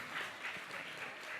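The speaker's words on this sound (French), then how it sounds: "Allez-y, applaudissez-le" A conference audience gives soft, even applause from some distance, a steady faint patter of many hands without any voices.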